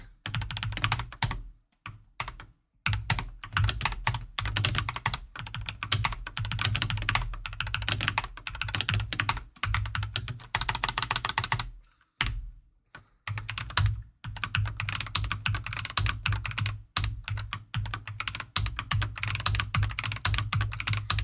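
Continuous computer keyboard typing, a close, busy clickety-clack of rapid key presses with a few brief pauses, heard alone.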